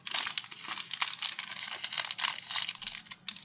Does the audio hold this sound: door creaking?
no